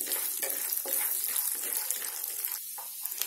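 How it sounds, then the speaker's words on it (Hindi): Peanuts roast in hot oil over a low flame, producing a light crackling sizzle punctuated by scraping stirs and a few brief clatters, close and moderately loud. "ये ऑयल गर्म हो गया है अब मैं इसमें मूंगफली डाल देती हूँ और इसको मूंगफलियों को मैं भूनूंगी"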